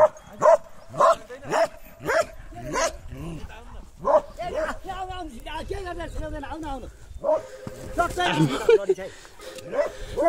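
A Bhote dog barks repeatedly in quick sharp bursts nearby, then whines and yips, with people talking in between and over the barking.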